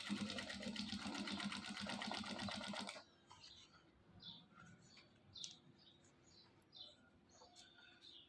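A sewing machine runs a single line of stitching in silk thread along a fabric edge, a rapid, even mechanical whir for about three seconds that stops abruptly, leaving a quiet room with scattered faint ticks and chirps.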